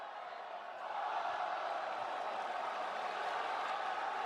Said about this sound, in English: Crowd appreciate his efforts tonight.